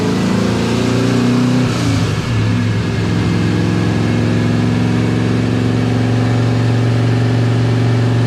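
A Volvo 240 fitted with a Cadillac CTS-V engine runs hard on dyno rollers, a loud sustained drone with a brief revving swell early on, then a steady high-load roar throughout.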